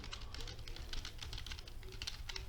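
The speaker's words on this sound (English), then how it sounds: "In the address bar, you need to type PC Health Check tool." Steady, quick clicking of keys on a computer keyboard as someone types a search into a browser address bar, quiet and close, with no talking.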